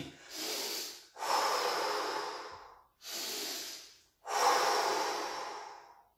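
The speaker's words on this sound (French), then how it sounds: "j'essaie de tranquillement de respirer et de retourner au calme" Children breathing slowly and calmly after martial arts exercises, four long audible breaths in a steady in-and-out rhythm, close and fairly loud, with no talking.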